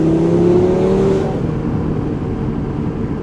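A 500-horsepower Audi RS3 accelerates hard on a mountain road, its engine loud and close, with a rising whine early on that settles into a steady roar echoing off the surroundings.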